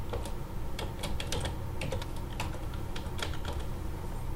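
Keys tapped on a computer keyboard while an email address and password are typed at a login screen, a steady run of light, quick clicks with short pauses, close and alone without talk.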